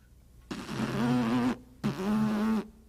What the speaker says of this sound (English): by pursing your lips together like this and buzzing while blowing.